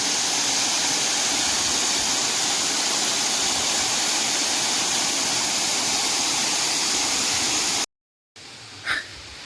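Botalda waterfall in Kharsia, Chhattisgarh roars as a loud, steady wash of falling water for about eight seconds, then cuts abruptly to a brief, quieter stretch.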